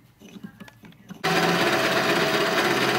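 A mini lathe cuts down a brass part for a machinist hammer. After a quiet, murmuring start the machine kicks in abruptly with a loud, steady whirring drone that holds to the end.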